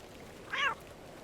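A single short cat meow sounds in a point-and-click adventure game, a faint, rising-then-falling mew over quiet background hum.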